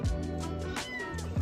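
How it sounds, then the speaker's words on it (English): A cat trapped inside a car being worked on by mechanics gives a few close, plaintive meows, each rising and falling, with short gaps between cries. "these mechanics noticed the car they were working on had started to meow"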